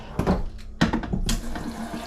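Tap water runs into a water filter pitcher being refilled, a steady splashing flow with a couple of louder gushes, close by and without talk.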